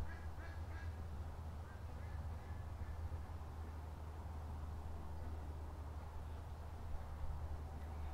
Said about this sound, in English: there's a lot of ducks sitting on the other side of the creek